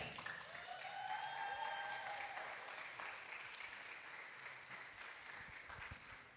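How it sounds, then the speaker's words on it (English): Applause for a third-place podium finisher at a Canadian VGP esports awards event, a steady wash of crowd clapping that stays fairly even throughout, heard from a distance beneath faint background tones. "Give him a round of applause."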